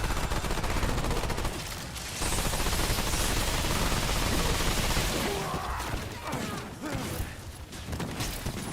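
An enemy gunner in the game Remnant 2 firing steadily, a dense continuous spray of loud close gunfire with mechanical clatter, thinning briefly then resuming.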